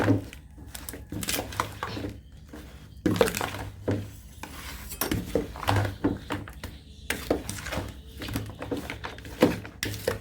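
Curried beef being stirred in a pot, with repeated scraping clinks of a spoon against the metal in an irregular rhythm, close and clear, and no talking over it.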